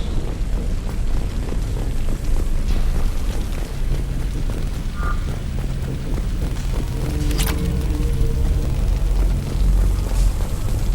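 A loud, sustained rumble of an explosion aftermath in Mass Effect 2, with dense low booming and debris noise filling the scene, a few faint tones and clanks breaking through.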